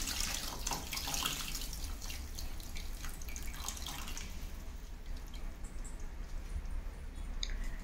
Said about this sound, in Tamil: இந்த ஸ்டேஜில் புளி கரைச்சி ஊற்றணும்.